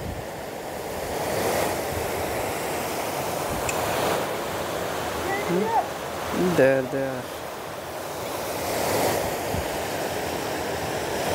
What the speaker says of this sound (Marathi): तिथे एक छोटासा वॉटरफॉल आहे